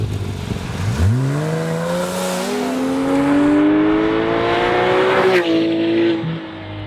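A 2014 Porsche 911 GT3 engine revs hard as the car accelerates. The loud, close engine note climbs steadily in pitch, breaks briefly at a gear change, then rises again before easing off.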